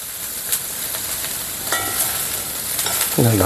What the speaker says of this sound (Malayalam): ഇച്ചിരി നേരം കൂടി ഒന്ന് മൂടാതെ ഇരുന്നിന്ന് ഇളക്കിയിട്ട് വാങ്ങി വെക്കാം